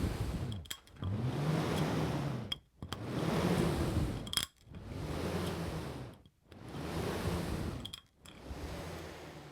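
A homemade spinner toy whirs close by in four long surging pulses, each swelling and fading as the string is pulled and released, with brief gaps and faint clicks between them.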